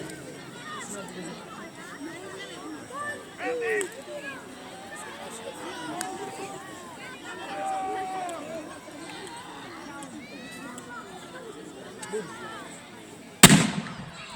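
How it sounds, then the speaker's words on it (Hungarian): A crowd chatters and murmurs throughout, then a single sharp, loud ceremonial cannon boom cracks out near the end. "Figyelem! Elég hangos lesz az ágyútűz."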